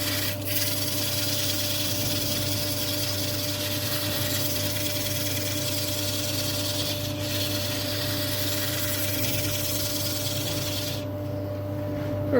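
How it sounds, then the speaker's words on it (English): Steady sanding on a turned English oak square-footed bowl spinning on a lathe, a continuous close rasping hiss over a constant motor hum, unbroken for the whole stretch with no talking. "I'll finish the sanding off"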